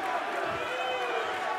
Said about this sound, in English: the crowd getting into this one already